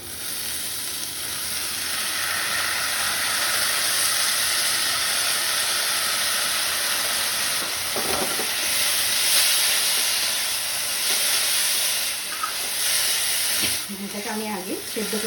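Boiled banana flower tossed into fried spices in a pan, giving a loud continuous sizzle and steamy hiss throughout, with spatula scrapes and stirring clatter near the end.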